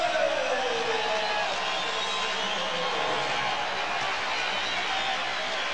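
Basketball crowd in the Boston Garden during a 1995 Lakers–Celtics game roars in a loud, steady wash of cheering and shouting that holds at an even level for the whole stretch.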